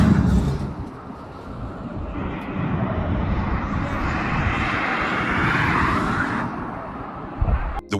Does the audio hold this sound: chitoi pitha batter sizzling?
no